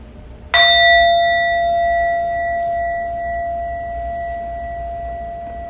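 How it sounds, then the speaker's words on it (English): A single meditation bell struck once at the start of a guided sitting practice, its clear metallic strike followed by a long, steady ringing tone that slowly fades while sustaining through the quiet room. "And the meditation will begin and end with a bell."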